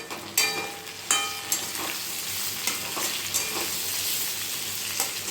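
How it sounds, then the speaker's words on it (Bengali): Chopped tomatoes sizzle in a frying pan for a gochi fish curry, a constant frying hiss broken by sharp clinks and scrapes of a spoon stirring, close and fairly loud with no talk. "এবারে দিয়ে দিচ্ছি এই টমেটো কুচিগুলো, টমেটো কুচিগুলো দিয়ে দিলাম।"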